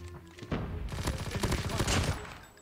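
Rapid bursts of Thompson SMG fire in Call of Duty, a dense rattling stream of shots starting after a brief quiet lead-in and running steadily loud to the end.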